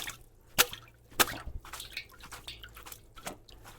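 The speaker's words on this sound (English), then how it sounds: "we just want to take them out of the water so that they can drain all the excess water" Cooked somen noodles are lifted out of water and shaken to drain, giving a few quiet, close drips and small splashes spaced irregularly against near silence.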